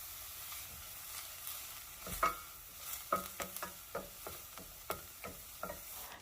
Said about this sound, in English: I'm just going to saute the onions until they become aromatic and translucent